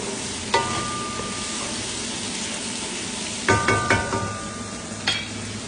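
Mung bean soup with eggplant stirred in a pot, a steady sizzling simmer broken by a few spoon clinks and scrapes against the metal.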